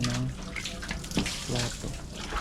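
Dishes being washed under a running tap, a steady rush of water with clinks and splashes throughout, close and moderately loud.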